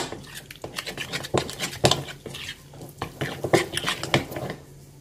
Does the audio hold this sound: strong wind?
no